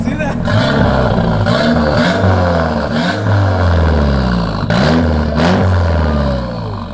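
Nissan Silvia S15 engine revving loudly up close, with throaty exhaust rising and falling in repeated rev sweeps and sharp blips, while people talk over it.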